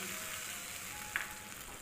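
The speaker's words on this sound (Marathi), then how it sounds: "तर त्याच्यामध्ये ही फोडणी टाकायची" Hot tempering of oil and spices poured over yogurt and raw peanut chutney makes a soft, steady sizzle with one brief crackle near the end, faint and close, with no voices.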